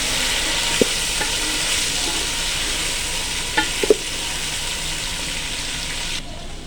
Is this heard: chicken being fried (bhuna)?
yes